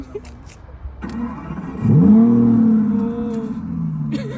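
A car engine cranks and catches, rising into a steady idle after a brief whine; faint voices in the background before it starts.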